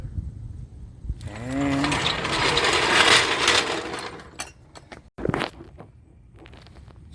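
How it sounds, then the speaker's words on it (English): A car jack being lowered beneath a 2022 Honda Civic makes a sustained mechanical grinding and ratcheting rush with a rising squeal early on, then stops abruptly and is followed by a few sharp clanks. "I now can lower the jack all the way."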